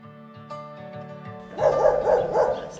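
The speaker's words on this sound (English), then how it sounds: "Sorry about the dog, nothing I can do about that." A dog barks repeatedly in quick succession partway through, loud and close, over a sustained musical tone that plays beforehand.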